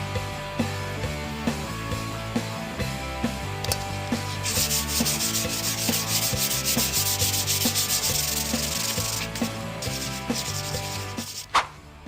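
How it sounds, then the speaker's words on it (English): An old exhaust is rubbed down by hand with 180 grit sandpaper: a continuous close scratchy sanding in quick back-and-forth strokes, growing harsher in the middle stretch, with no talk. "180 grit sandpaper."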